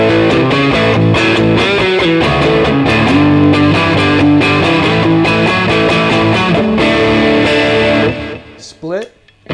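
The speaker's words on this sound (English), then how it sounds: "Middle position, full humbucker mode." A Tease SBH-E Tele-style electric guitar is played through overdrive with the pickup selector in the middle position and the humbuckers in full mode. Loud distorted chords and riffs ring continuously, then fade near the end.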